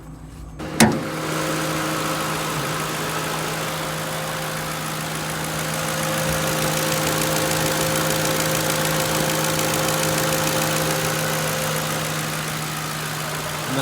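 A Ford Crown Victoria sedan at a government auction idles smoothly and evenly, a close, steady hum with a single sharp click near the start and no talk.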